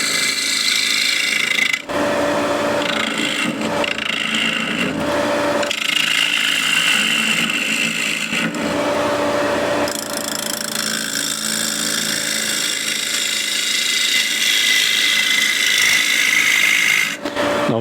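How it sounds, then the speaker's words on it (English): A ball gouge hollows a spinning piece of wood on a lathe, giving a steady, continuous scraping rasp over the motor's hum, broken by a few brief pauses where the cut stops and restarts. "So I can hollow it now with a ball gouge."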